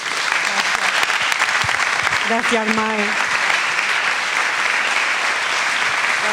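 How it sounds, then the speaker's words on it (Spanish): Steady, loud crowd applause fills the whole stretch at a Catalan political rally for a Senate candidate, with a brief spoken thank-you cutting in around the middle. "os pido un aplauso grande para ella"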